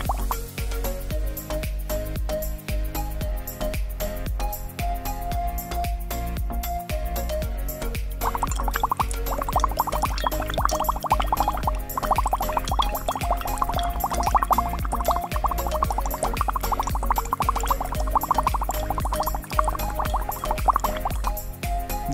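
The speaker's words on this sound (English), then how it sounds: "As you can see, the gas leaking out of this case and it smells like hydrochloric acid." Gas leaking out of an opened lithium battery case, heard as a continuous close bubbling, dripping and gurgling over a low steady hum, growing busier about a third of the way through.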